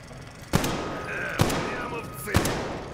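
Three sharp gunshots from the video game Metro Exodus crack out at even intervals, each with a ringing tail, over a steady background hum and faint game ambience.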